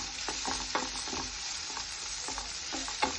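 Thinly sliced onions and tomatoes frying in a pan for a Vulli Kadala curry, a steady close sizzle broken by regular scraping stirs of a spoon against the pan, with no one speaking.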